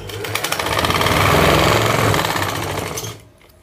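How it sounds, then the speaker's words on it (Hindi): A sewing machine runs steadily for about three seconds, stitching down the centre of an elastic waistband on a pair of pants, its rapid mechanical chatter loud and close before it stops abruptly. "अब हम इलास्टिक के सेंटर में एक सिलाई लगाएंगे"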